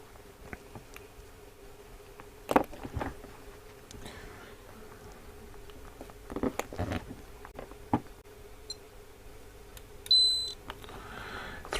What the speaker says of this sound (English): so we're only getting 1 beep